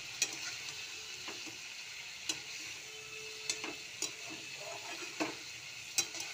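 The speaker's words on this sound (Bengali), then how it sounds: "একটু নাড়াচাড়া করে দিই" Vegetables being stirred in a pan, with soft scraping and sizzle broken by a few sharp spoon clicks against the pan at irregular intervals, fairly faint and close.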